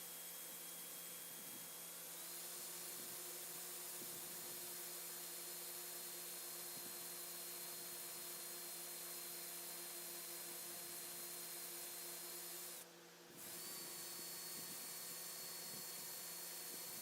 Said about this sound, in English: then I switch to a regular drill bit to drill the rest of the way through the blade